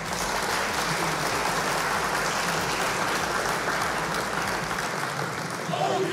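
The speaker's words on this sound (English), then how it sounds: "Let's go ahead and give it a round of applause" A steady round of applause from a crowd fills the whole stretch, dense and continuous at an even level, easing slightly near the end.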